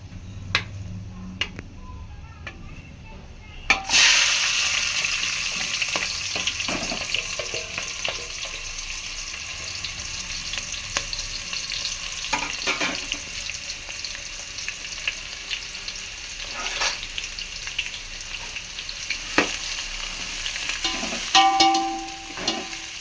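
Onions hit hot oil for home-style chicken biryani after cardamom and cloves are toasted, breaking into a loud, steady broadband sizzle a few seconds in, with occasional light clicks and scrapes of stirring.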